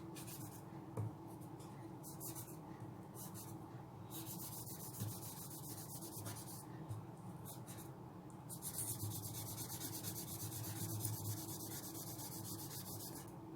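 Cotton rubbed over pencil shading on paper makes a soft, close, continuous scratchy rubbing, a faint swishing friction with brief pauses as the strokes are blended.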